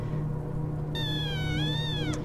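A single drawn-out cat meow from the video game Shelter 2, clear and fairly close, rising then falling over about a second above a low steady hum.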